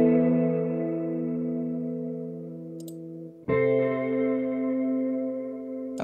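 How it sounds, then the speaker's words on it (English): Guitar processed with chorus, delay and raised drive plays two long held chords, the first decaying before the second enters with a soft click, thick and slightly gritty, no talk. "I'm also gonna add a delay,"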